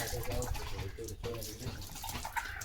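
Water splashes and sloshes up close as a dog moves through it, with a person talking over the noise.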